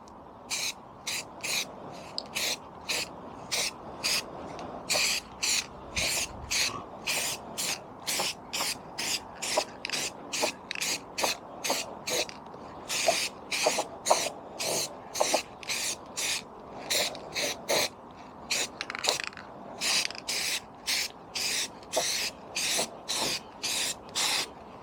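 Mustard-yellow aerosol spray paint hisses onto a Mobylette Motobecane X7 motorcycle part in many short, rhythmic bursts, close and crisp, with brief pauses between each spray.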